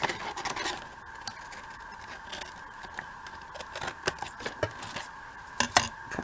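Scissors snip through paper for a window envelope pocket, a series of faint, close, irregular cutting clicks and crisp rustles with quiet gaps between.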